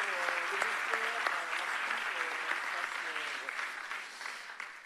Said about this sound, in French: Un petit mot aussi sur Christy, ouais, on peut applaudir.